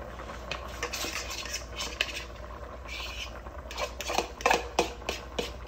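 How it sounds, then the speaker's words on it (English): A utensil stirs chicken and dumplings in a pot with a butter and flour base, making soft scraping and clinking sounds that grow into louder, rhythmic knocks toward the end. "Again, we're going to stir it up."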